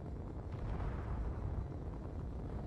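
In the Space Engineers game, a ship explodes with a deep, rumbling roar that stays loud and sustained for a few seconds, with no speech.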